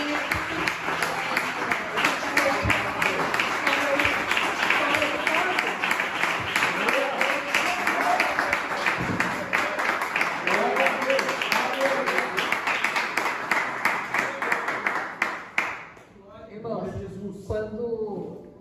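A church congregation claps together for a long stretch, steady loud applause, with a voice speaking over it before the clapping fades out near the end.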